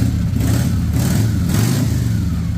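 A Harley-Davidson Sportster converted into a bobber revs up close, its loud, deep engine note rising and falling in a couple of throttle blips over a rough, throbbing idle.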